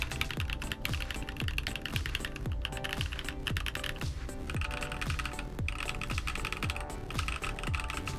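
Rapid, continuous typing on a MagicRefiner M31 clear 65% mechanical keyboard with a steel plate, giving bright, clacky keystrokes in a dense, uneven rhythm close to the listener.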